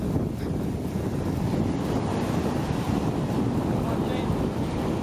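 Surf breaks and washes steadily along a Kangaroo Island shoreline during a fishing trip, a dense continuous roar with wind buffeting the microphone and no voices.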